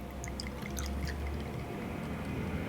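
A measure of 1.5 ounces of gin is poured for a garden cocktail, a soft, steady liquid trickle that runs quietly for a couple of seconds before tapering off, with no voices.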